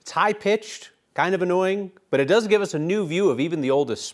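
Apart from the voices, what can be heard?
None of the usual background noises is heard.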